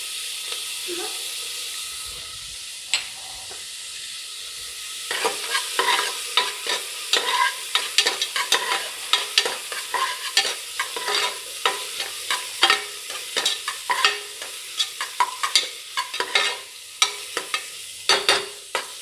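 Onions fry with ginger garlic paste for a soya ball pulao, a steady close sizzle broken by repeated scraping stirs from a spoon in the pan, quiet at first and then busy and rhythmic throughout.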